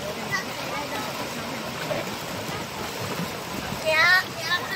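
Stream water flows at a valley campsite with a steady, close rushing and babbling wash, with a brief louder splash near the end; a voice is also faintly present.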